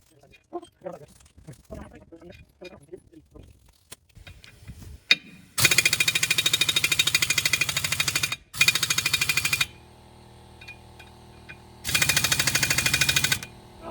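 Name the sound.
impact wrench on an undersized air compressor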